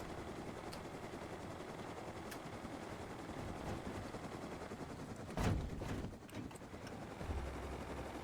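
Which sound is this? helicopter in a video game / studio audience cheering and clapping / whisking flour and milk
helicopter in a video game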